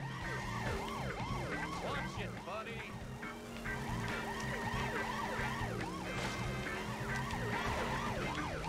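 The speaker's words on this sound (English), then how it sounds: "Oh, the fucking sirens are blowing my brains out here!" Police sirens wail continuously in The Simpsons: Hit & Run, several overlapping rising-and-falling tones over steady car engine noise, loud and dense throughout.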